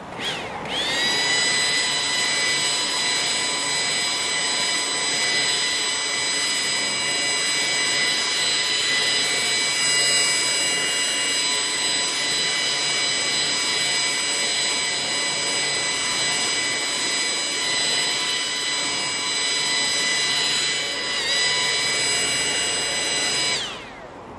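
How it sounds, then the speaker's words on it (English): A Milwaukee battery-powered leaf blower runs continuously outdoors, blowing garden debris into a bush with a loud, steady high-pitched whine and airy rush, close by, alone with no talking. "we're going to leave the stuff here, hence why we're going to blow it into the bush"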